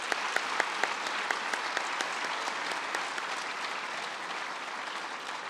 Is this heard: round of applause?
yes